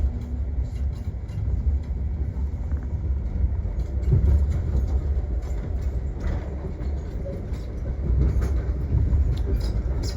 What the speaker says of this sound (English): And we've got a container train just here.